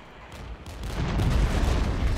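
Artillery fire in the real-time strategy video game Regiments, a dense rumbling barrage that builds from low to heavy, with booming impacts rolling together without pause.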